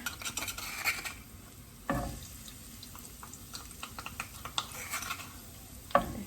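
Crushed garlic fries in hot olive oil with a soft sizzle, stirred by a utensil that clinks and scrapes the pan in irregular bursts, fairly quiet and close.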